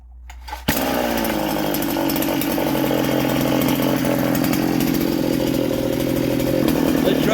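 A Baumr-AG SX76 chainsaw engine sputters and then roars to life, running loud and steady at a high idle close to the microphone as it warms up.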